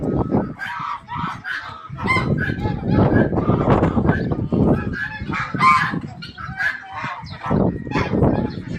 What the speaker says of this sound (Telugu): బాతులు కోళ్ళు అన్ని బాతులే, పెద్ద బాతులు.